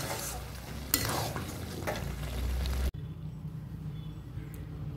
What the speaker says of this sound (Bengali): এবার নেড়ে নেব